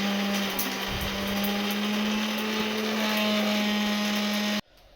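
An electric mixer grinder runs steadily at high speed, grinding coriander, mint, green chilli and garlic into a paste, a loud continuous whir that cuts off abruptly near the end.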